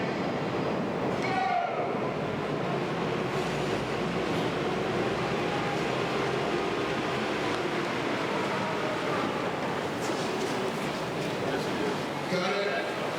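A subway train pulls into a station platform on a film set for a Die Hard with a Vengeance action scene, a steady loud rumble and rattle filling the whole stretch while people talk over it.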